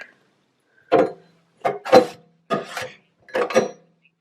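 A curved spatula scraping grease out of a container, four separate short scraping and knocking strokes evenly spaced, close and moderately loud with silence between them.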